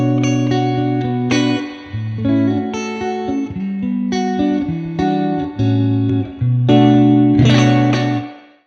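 Electric guitar played through an amp and a Universal Audio Ox Stomp, clean sustained chords and melodic notes ringing one after another with chorus and reverb, heard alone without talking.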